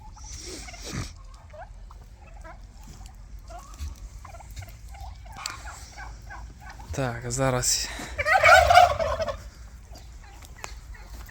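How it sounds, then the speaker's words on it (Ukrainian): Turkeys gobble in a bubbling burst, with scattered poultry calls around it. A person speaks briefly nearby. "ось індики, дивіться, які ось це в мене найбільший індик, найважчий"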